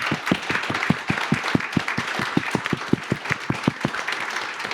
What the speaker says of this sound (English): please a round of applause for our wonderful panelists